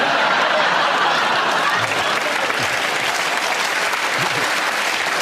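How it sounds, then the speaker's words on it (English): Dense, sustained applause from a large studio audience at the radio panel show Just a Minute fills the whole stretch, steady and loud without pause. "You made a joke and you got a round of applause"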